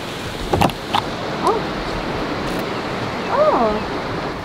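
Waterfall in Norway, heard as a steady broad rush of falling water in the background, with a few faint bird chirps and brief bumps breaking through.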